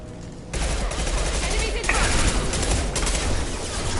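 Gunfire in the Mass Effect 2 video game, from Blue Suns mercenaries and Vorcha in a battle: rapid, dense bursts of shots crackling continuously, loud and close, with faint voices mixed in.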